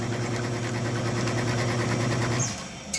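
A drill bit enlarges a 3/16-inch string ferrule hole through the painted body of a guitar, giving a close, steady motor whine for about two and a half seconds before stopping, with a small click at the end.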